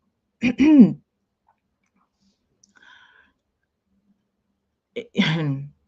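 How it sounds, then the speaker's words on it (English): A short throat clearing near the start, then near silence with a faint click, followed by another quick throat clearing at the end. "So I do apologize for the throat clearing."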